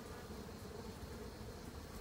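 Honey bees buzz at an open hive during a beekeeping inspection, a faint, dense and continuous hum with no voices over it.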